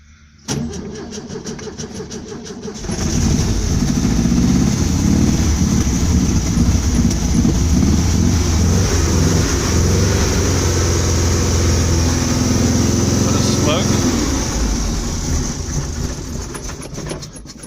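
A 1967 Volkswagen Type 3 Squareback, parked for four years, cranks for a couple of seconds, then catches and runs with a loud, uneven, rattling idle that keeps going close by before easing slightly at the end.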